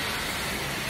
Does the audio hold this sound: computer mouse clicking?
no